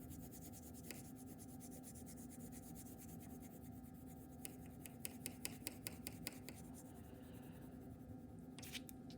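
A pencil shades across paper with firm pressure, giving a steady, faint, continuous scratchy rubbing with a few slightly sharper strokes toward the end.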